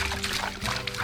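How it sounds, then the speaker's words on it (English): Water sloshes and pops in a gold pan being swirled and jigged during gold panning, a short close burst of splashing and trickling with a brief murmur of a voice. "See that washing and jigging action, that water popping."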